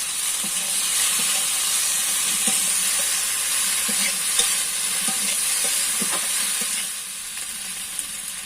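Pre-cut taro flowers going into a pan of fried shrimp produce a loud, continuous sizzle and hiss of frying, with occasional soft clinks and scrapes of stirring; the level drops slightly near the end.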